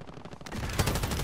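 Gunfire in the video game Call of Duty: Modern Warfare, a rapid burst of loud shots that thickens into dense continuous fire in the second half, with no talk over it.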